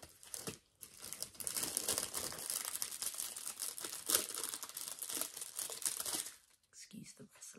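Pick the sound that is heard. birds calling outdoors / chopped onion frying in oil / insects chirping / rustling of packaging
rustling of packaging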